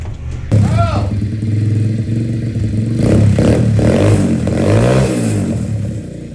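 A freshly restored motorcycle engine idles and revs loudly up close, its rough, clattering note rising and falling while people talk over it.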